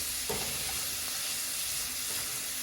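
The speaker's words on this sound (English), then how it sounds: "Make sure that all of your garlic and onion is mixed in together to really let all those flavors come through." Garlic and onion frying in a pan and being stirred, a steady close sizzle with a few faint scrapes of stirring.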